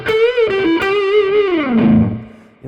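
A heavily distorted electric guitar on its front pickup holds a warm, throaty sustained note that bends and slides downward before a new note is struck.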